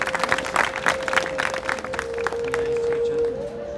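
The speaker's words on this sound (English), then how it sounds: "All right, round of applause" An outdoor crowd at a men's fashion and regalia contest applauds a contestant with scattered claps that taper off, while a steady tone hums underneath.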